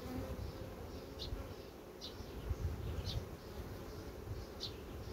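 A dense swarm of honey bees hums low and steady around a frame held out of a small nucleus hive, with occasional faint high ticks over the constant close buzz.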